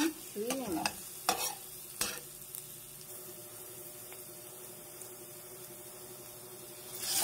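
Shrimp frying with garlic and onion in a pan, a soft continuous sizzle beneath several sharp scraping strokes of a utensil stirring early on, then a quieter steady fry.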